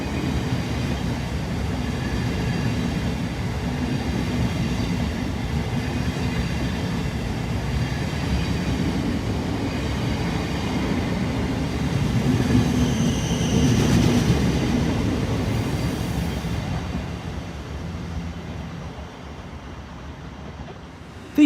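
A train rumbling steadily alongside a platform at a busy railway station, with a continuous low roar and rail noise that swells slightly midway before easing off, fairly loud throughout with no voices.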